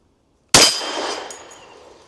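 A single sharp handgun shot of a 460 Rowland handload with a 200 gr Speer Gold Dot bullet, loud and close, its blast ringing out and decaying into a long echoing tail.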